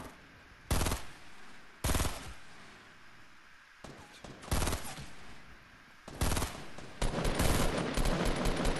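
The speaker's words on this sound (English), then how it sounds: "I was shooting both of them so they can both be weak" Gunfire in Fortnite Battle Royale: sharp, loud bursts of shots at irregular intervals, a few single cracks and then a denser run of rapid fire toward the end.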